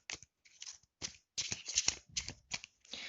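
Tarot cards being shuffled for a card reading: a run of quick papery riffles and slides in short bursts with brief pauses, close and fairly loud.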